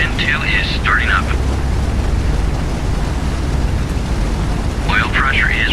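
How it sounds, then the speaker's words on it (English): A B-17 engine spins up inside a flight simulator game, a steady, loud low rumble and roar running throughout while someone talks over it at the start and end. "Engine 2 is starting up."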